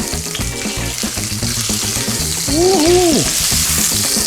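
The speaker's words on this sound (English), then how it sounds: "we're gonna get our bacon cooked" Four rashers of streaky bacon fry in a hot pan with a loud, continuous sizzle and crackle, while a voice briefly cheers partway through.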